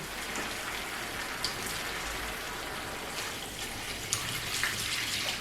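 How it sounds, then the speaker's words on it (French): Water poured into a paella pan over reduced tomato while making a seafood and chicken paella royale, a steady close hiss of pouring and splashing that runs throughout with a few brief drips and spatters. "on va mettre l'eau"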